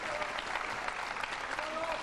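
Sustained applause from the crowd at a 2000 World 9-ball Championship pool match, thick and continuous, with faint voices mixed into the clapping.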